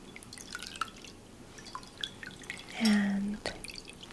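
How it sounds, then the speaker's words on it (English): Water drips sparsely into a basin during a gentle spa hand and arm massage, soft scattered plinks with a brief louder trickle in a quiet room. "I just love the sound of water dripping or falling"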